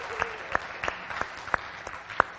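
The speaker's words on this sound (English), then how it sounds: "Slow clap." A small workshop audience gives a slow clap, about seven spaced single claps at a steady unhurried pace, close and fairly soft.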